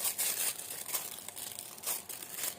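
Plastic baking film crinkles and rustles in sharp, repeated bursts as a small piece is handled and smoothed out for a crocheted carrot toy's leafy top, fairly close and with no voices.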